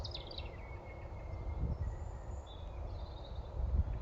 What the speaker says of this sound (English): I just thought I'd let you listen to those lovely birds tweeting for a second.